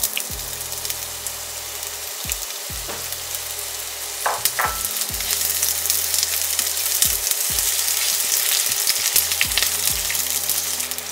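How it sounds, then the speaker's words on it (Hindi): Chopped onions sizzle and fry steadily in a hot cardamom tadka for paneer angara, with occasional stirring scrapes over a continuous crackling hiss and no talking. "अब इसमें ये जो कटे हुए ऑनियन मैं डाल दूँगी।"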